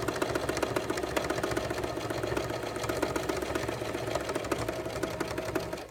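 A BabyLock Pro sewing machine stitches a simple bag, running in a steady, close, continuous whirr with a rapid needle rhythm and no pauses or voices.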